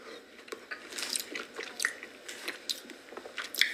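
Someone chews fresh berries up close, with moist squishy bites and soft crunches in an uneven rhythm, and no talking.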